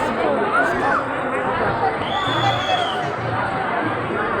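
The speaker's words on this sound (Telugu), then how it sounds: "జనం చూడండి ఒకసారి" Big crowd lined up at a Shiva temple produces a constant close hubbub of overlapping voices, with scattered shouts and a raised call standing out briefly.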